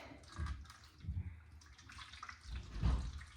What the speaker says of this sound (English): I'm gonna pour some water in here.